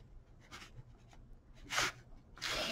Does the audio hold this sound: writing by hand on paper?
yes